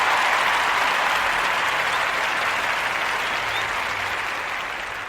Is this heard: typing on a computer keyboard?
no